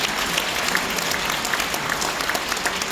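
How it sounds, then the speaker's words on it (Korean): A dense, steady wash of applause from a lecture audience, many hands clapping together without pause, close and fairly loud. "큰 박수로 보내주십시오."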